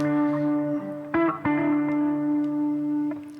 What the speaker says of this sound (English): And again, just that little bit of overdrive.